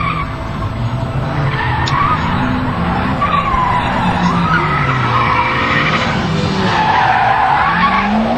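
A 1988 rally-style driving skills course with cars such as a Daihatsu, Honda, Peugeot and Citroën AX, one inner rear wheel lifting and losing grip; continuous loud engine roar with sustained tire skidding and squeal throughout, no talk.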